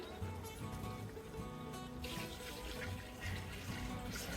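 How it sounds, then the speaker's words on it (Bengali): Water poured into a pot for cooking rice for chicken biryani, a steady rushing flow running throughout, fairly soft and close. "এবার আমি পরিমাণ মতো পানি দিয়ে দেবো চাল ফোটার জন্য"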